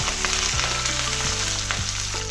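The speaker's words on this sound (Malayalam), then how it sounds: "വെളിച്ചെണ്ണ ചൂടായി വന്നിട്ടുണ്ട്. അതിലേക്ക് കടുക് ഇട്ട് കൊടുത്തു." Mustard seeds and chopped green chillies fry in hot coconut oil for a Kerala-style thoran, giving a loud, continuous close-up sizzle with occasional small pops.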